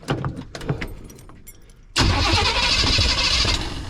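An old car engine cranks and catches at once, jumping from clicking and rattling into a loud, rough, steady running roar close by.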